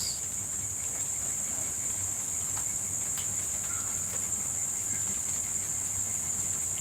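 Insects shrill at night in a high, steady, unbroken drone, with a faint low background beneath and no talk.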